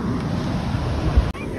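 Ocean waves and surf rumble steadily at Peniche, loud and close with buffeting wind noise on the microphone, broken briefly near the end by a sharp dropout.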